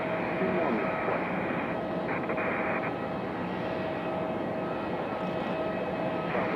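Southwest Boeing 737-800 airliner at Raleigh-Durham airport, a steady broad engine roar holding loud and constant throughout, heard from a distance, with faint radio chatter blended in.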